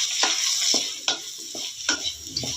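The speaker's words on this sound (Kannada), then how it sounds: "ಒಂದು ಅರ್ಧ ಸ್ಪೂನಷ್ಟು ಮಶ್ರೂಮ್ನ ಸ್ವಲ್ಪ ಎಣ್ಣೆ ಒಳಗೆ ಫ್ರೈ ಮಾಡ್ಕೊಳ್ಳೋಣ." Mushrooms frying in a little oil in a pan, soft sizzling under repeated stirring strokes of a spoon that scrape and tap at an uneven rhythm, close and moderately quiet.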